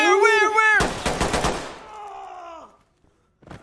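Gunfire in the tactical shooter Ready or Not, a short dense burst of rapid shots lasting under a second, loud and close, set between stretches of someone shouting in alarm.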